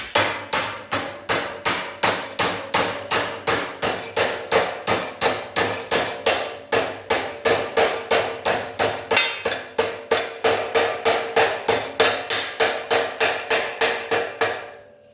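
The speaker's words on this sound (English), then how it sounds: "And all I'm going to do is hammer that up." Rapid, evenly spaced hammer blows on sheet metal bent over angle iron for a car door bottom, dozens of sharp clanging strikes ringing out in a steady rhythm.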